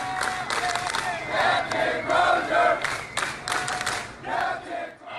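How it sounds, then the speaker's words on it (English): A ship's crew cheers and shouts as their captain disembarks, a lively crowd of whoops and yells in repeated surges, heard in a replayed recording. "a reference to viral video of spontaneous cheering as Crozier disembarked the ship."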